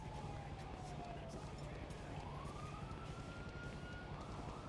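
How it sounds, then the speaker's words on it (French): A wailing siren in a video game rises and falls in long sweeps, fairly faint and steady against a dense background of game noise. "On va aller voir c'est quoi cette petite sirène."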